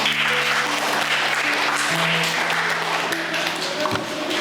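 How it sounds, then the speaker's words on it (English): A school audience of students claps in dense, sustained applause that fades slightly toward the end, with a few voices mixed in. "Please clap for them."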